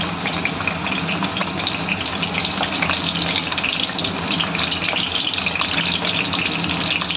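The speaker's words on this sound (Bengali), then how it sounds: "তেল গরম হয়ে গেছে, পটলগুলো এবার আমি এর মধ্যে দিয়ে দিলাম।" Pieces of pointed gourd frying in hot oil in a pan over a high gas flame, giving a loud, steady, dense crackling sizzle that runs without a break throughout, with no voices.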